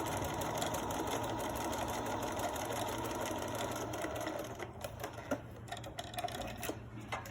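Sewing machine stitching a cloth face mask, a continuous fast mechanical whir and clatter for several seconds, then stopping into scattered clicks and handling noises, close and steady, no talking.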